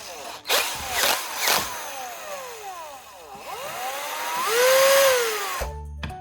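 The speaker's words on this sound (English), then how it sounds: "Now I'm going to attach the spark plug ceramic piece to a drill and turn it into a high-speed sharpening bit." A power drill spins a spark plug ceramic piece clamped in its chuck as a sharpening bit, with several short bursts of whirring that spin up and wind down, followed by a longer rising whine that then cuts off.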